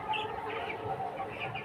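Farm chickens 24 days old cluck and peep softly in a low, continuous chatter, with no voices over them.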